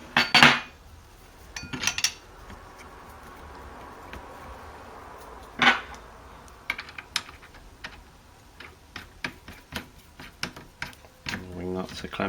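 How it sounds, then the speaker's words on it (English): Metal filter plates being fitted into a Braumeister 10-litre brewing machine during a porter brew day, giving sharp clanks and clinks near the start and at about five seconds, then lighter scattered taps, all close by. "Just going to add the filter plates"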